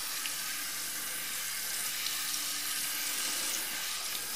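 Warm water runs steadily from a pull-down kitchen tap over Stampin' Scrub cleaning mats in a sink, a constant close hiss of flowing water with no talking.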